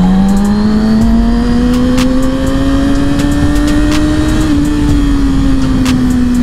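A motorcycle engine drones loudly while riding, the pitch climbing slowly as it revs and then easing slightly, steady and close with wind rush and no voices.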